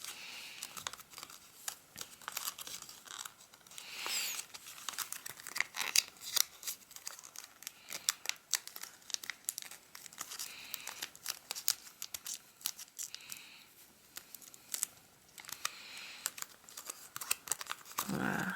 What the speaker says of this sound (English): we're gonna fold it in half like this